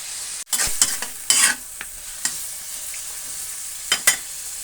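Chayote tops sautéing in a pan, with a soft sizzle punctuated by close, crisp spatula scrapes and clacks against the metal in irregular bursts, loudest at the start and again near the end.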